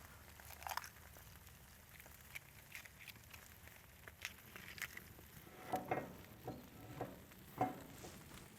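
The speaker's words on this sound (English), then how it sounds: "We're gonna go ahead and crack our egg on our skillet." Egg frying in butter on a skillet, a faint, steady low sizzle with soft intermittent crackles and a few light pops, somewhat louder toward the end.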